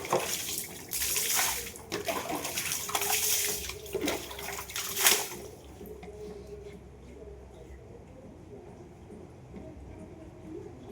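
Water splashes and pours irregularly during a province-style bath after cleaning a car park area, fairly close, then fades to quieter trickling and near-silence in the second half.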